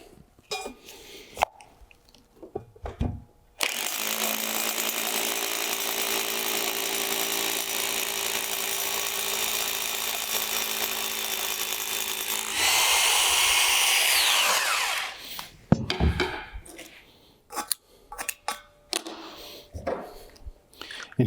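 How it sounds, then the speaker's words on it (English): A hammer drill roars steadily for about ten seconds, rising in pitch near the end as it bites into a concrete footing for a pergola post mount, with knocks and handling noises around it. "take your hammer drill"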